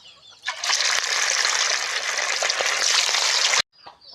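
Pieces of fish dropped into hot oil for an Andhra-style fish pickle burst into a loud, steady broadband sizzle that holds for about three seconds, then cuts off abruptly, leaving a faint quieter frying tail.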